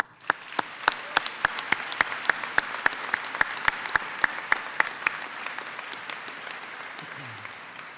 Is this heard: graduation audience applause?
yes